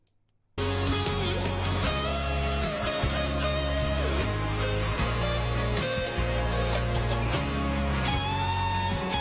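An electric guitar stumbles through chord changes in a clumsy way, over a loud, steady backing track with bass and drums. The playing starts abruptly and continues for several seconds, close and full, with no voices.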